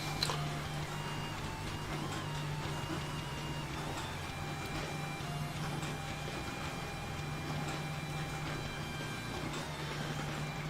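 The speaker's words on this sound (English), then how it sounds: "the printer is distracting me." A printer runs continuously in a room, a steady mechanical whir with a low hum and faint repetitive ticking, moderately quiet and uninterrupted with no one talking.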